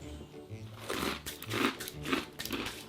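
Small barbecue-flavoured snacks are crunched in the mouth in four or five loud, crisp bites, each followed by brief chewing, close and without talk.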